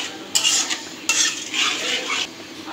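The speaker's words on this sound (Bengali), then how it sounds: "টক দই দিয়ে মশলাটা কষাই নিব।" Sour yogurt being stirred into a spice masala in a pan, a spoon scraping in repeated strokes with soft frying sizzle underneath, close and fairly loud with no talking.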